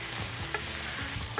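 Spring roll filling with sesame oil sizzles and is stir-fried in a pan, giving a continuous close frying hiss broken by a few light scraping stirs, with no voices.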